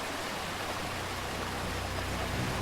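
A waterfall atop a Cloakwood forest area in Baldur's Gate roars as a steady, dense rush of water, constant and fairly loud with no voices over it.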